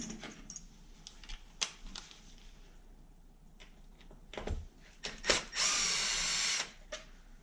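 A power driver backs 2.5 mm screws out of an Arrma 3S BLX RC truck: a few short close whirring bursts, then one longer, louder sustained spin.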